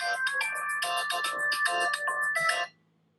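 A mobile phone ringtone chimes out in a loud, repeating electronic melody of bright bursting notes, playing steadily for about two and a half seconds and then cutting off into silence.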